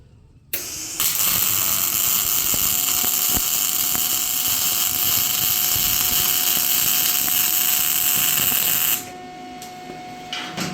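Wire-feed MIG welder set to 2.7 m/min wire feed, 25 V and a 150 A torch laying a seam: a loud, continuous crackling hiss that starts abruptly, holds steady for about eight seconds, then cuts off to a quieter hum.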